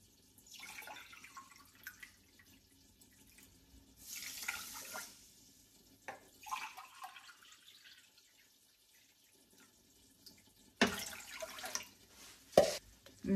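Water pours into a pan of rice in a home kitchen in short splashy bursts separated by quiet pauses, fairly faint, with a few sharper clinks toward the end.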